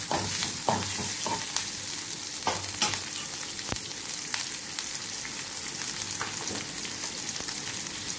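Shallots sizzle and fry steadily in a hot pan for a spicy Kerala-style beef curry, with occasional stirring scrapes over a constant close sizzle and no voices.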